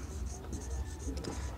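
Chalk scraping and tapping across a classroom board in short strokes, close and steady, with faint room noise underneath.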